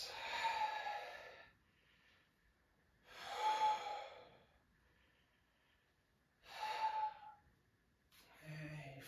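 Slow yoga breathing, three long audible breaths in and out, each swelling then fading with quiet gaps between, close and soft, with no talking.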